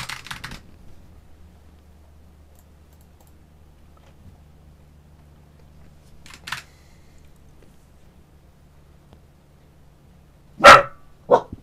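A dog nearby gives two loud, sharp barks near the end, sudden after a long stretch of quiet room hum and a faint clack or two of computer keys.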